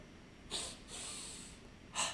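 Sharp, forceful breaths of a double-breathing kriya yoga exercise: a quick nasal snort-like intake, a longer sustained breath, then another abrupt burst, close and clear in a quiet room.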